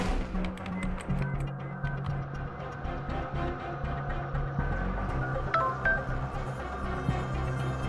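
Phone keypad dialing tones as routing numbers are entered, a string of short beeps under a busy movie soundtrack with background music and noise.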